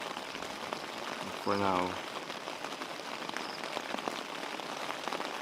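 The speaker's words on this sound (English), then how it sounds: "But then again, it's a rainy morning." Rain falling steadily on a tent on a cold morning at a farm campsite, a constant patter throughout, with a person speaking briefly over it.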